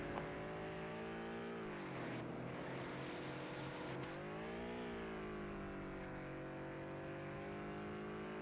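A car driven hard, its engine roaring loudly and continuously with rising and falling pitch as it accelerates and shifts, close and alone with no voices.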